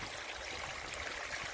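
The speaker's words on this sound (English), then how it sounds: "goes through various filters, and then it goes back into the pond through this" Water from a koi pond filter spilling over a small garden waterfall back into the pond, a steady close splashing trickle with no voices.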